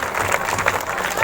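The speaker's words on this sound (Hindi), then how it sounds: "ताली बजाएंगे परमेश्वर के लिए।" A church congregation claps together during a live prayer meeting, giving a dense, steady burst of applause from a crowd close by for about a second.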